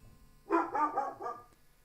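A small dog named Chonko gives a quick run of four or five close, high yappy barks, fairly loud against a quiet room.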